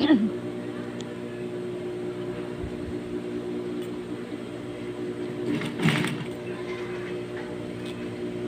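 Sewing machine stitching the side seams of a blouse, giving a steady mechanical whirring hum that runs through the whole stretch, with a brief louder burst near the middle.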